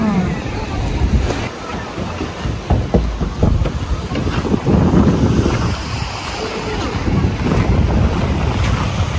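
A boat rides on open sea off Terengganu near Redang and Bidong, with a rough, continuous rush of wind and water buffeting close to the microphone and people talking intermittently over it.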